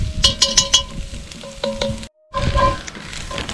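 Flour cooking for about a minute in a Dutch oven for beer cheddar soup with sausage and potatoes, a close steady sizzle and frying crackle with a few sharp stirring scrapes, a brief silent gap, then the sizzle returns.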